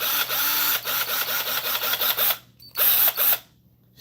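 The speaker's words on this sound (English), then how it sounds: "That's a drill." A Hyper Tough handheld power drill whirs in a series of short, repeated bursts, close and fairly loud, with a brief pause before a final burst.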